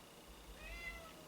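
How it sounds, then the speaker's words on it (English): Cats fighting in a home, with short strained meows and yowls rising over a quiet, steady room background, fairly faint and close, ending in a sharper burst. "excuse me while I break up a cat fight"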